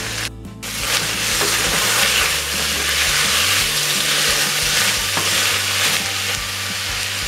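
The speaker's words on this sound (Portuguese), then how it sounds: "Eu coloquei aqui 2 dentes de alho e uma pimenta dedo de moça. E uma cebola picadinha." Garlic cloves, a dedo-de-moça chilli and finely chopped onion fry in a pan, a steady loud sizzle with stirring scrapes running throughout, close and without talk.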